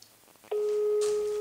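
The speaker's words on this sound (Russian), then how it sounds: "Смотрите, я ему звоню. Он взял, отключил." Telephone busy signal after a rejected call, a steady loud tone that starts abruptly and holds through the rest, following a few faint handling noises.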